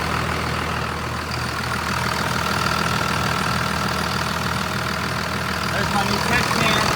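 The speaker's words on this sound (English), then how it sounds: "I just backed her out of the shop, letting her warm up a little bit." A second-generation Dodge Ram 2500 truck idles steadily while warming up outside a shop, its engine a continuous, even low rumble with a faint rhythmic knock running through all seven seconds.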